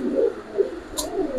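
Giribaz silver pigeon cooing in a loft, a couple of soft, low, close coos over faint background noise, with no talk.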